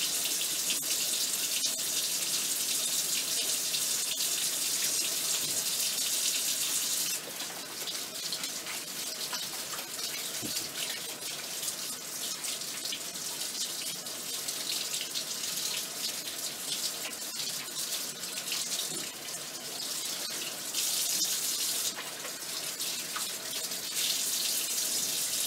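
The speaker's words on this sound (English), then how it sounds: "So I'm just going to get my normal hand wash here." Water runs steadily from a tap into a sink during a veterinary surgical hand scrub, a continuous bright hiss and splash lasting throughout with small shifts as hands move under the stream.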